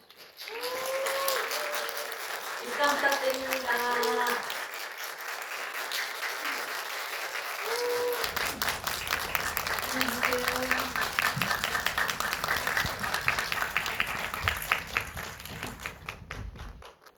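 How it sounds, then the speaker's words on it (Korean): Audience applause greets a film director and a child actor arriving for a stage greeting at a Korean screening event, with broad steady clapping filling the room for most of the stretch while a host speaks over it. "큰 박수 부탁드립니다."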